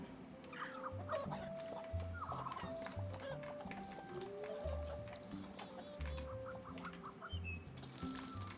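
Farm animals in a cooking video game cluck and gobble in a busy, lively mix of bird calls, joined by chiming game tones and low thumping music that continues throughout.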